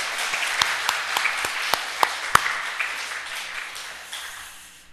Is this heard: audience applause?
yes